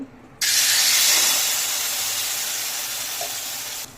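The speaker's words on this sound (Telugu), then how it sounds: "ఇప్పుడు దోశ వేస్తున్నాం" Wheat flour dosa batter poured onto an oiled, heated pan gives a sudden loud, steady sizzle that rises abruptly and holds, slowly easing, then cuts off near the end.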